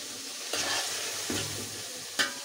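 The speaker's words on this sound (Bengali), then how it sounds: "এই যে আমি ম্যারিনেট করে মাংস ছেড়ে দিচ্ছি ভিউয়ার্স" Marinated meat for kacchi hitting hot oil and spices in a pot, a steady close sizzle with a few sharp scrapes and stirring bursts.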